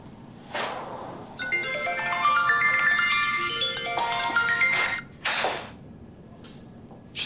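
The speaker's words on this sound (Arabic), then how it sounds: "ترد على التليفون ولا" A telephone rings in an indoor office setting with a sustained, loud ringtone of bright repeating tones lasting several seconds, framed by short noisy bursts before and after.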